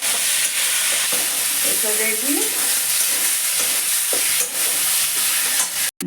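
Grated potato frying in a pan with salt, a continuous close sizzle with stirring scrapes, and a brief spoken remark partway through.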